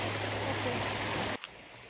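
Cold, clean spring water flowing steadily in a small stream near an old grist mill in Keremeos, a continuous broadband rush that cuts off abruptly partway, leaving a faint quieter hiss.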